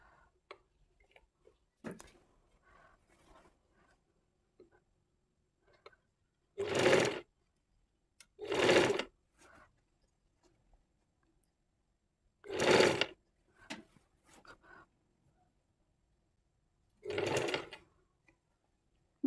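A sewing machine stitches a shirt sleeve onto the garment body in four loud, close bursts of steady whirring, separated by quiet gaps with faint ticking and handling sounds.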